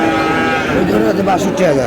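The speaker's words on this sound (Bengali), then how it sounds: "তো বেলাল ভাই, একটু গরুগুলা দেখান তো আমাদের এই পাশ থেকে।" A bull or cow at a livestock market lets out a loud, close, drawn-out moo that fills the whole short moment.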